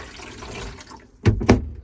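Water poured from a container down the back of a bathroom sink drain, heard as two short splashing gushes close by after a quiet stretch of low room noise.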